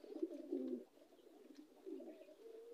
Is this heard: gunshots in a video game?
no